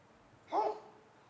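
A single dog bark rings out during a disc golf putt at a tournament, one short, fairly distant yelp rising briefly over quiet outdoor ambience.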